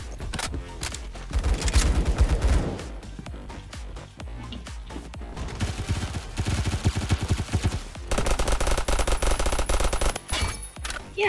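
Rapid, loud gunfire from a slow-firing, Vector-like gun in the video game Phantom Forces, with dense bursts of shots running almost continuously through the clip.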